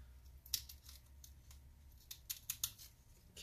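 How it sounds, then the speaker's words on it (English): Adhesive strip being slowly peeled up from an LCD screen cable inside an MSI GS63 Stealth 8RE laptop during disassembly, giving faint, close, intermittent crackling and tearing ticks. "There's an adhesive holding this, so while you peel it up, just stay close to the adhesive and slowly peel."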